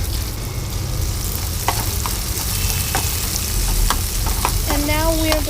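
Onions fry in a pan with a steady, close sizzle while a utensil stirs them, producing occasional scraping clicks and taps against the pan over a continuous hiss.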